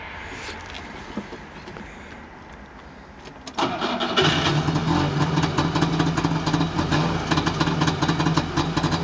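A 26 hp two-stroke Trabant, an old museum car, starts up partway through and then runs steadily at idle, a loud, buzzy, rattling engine note close by.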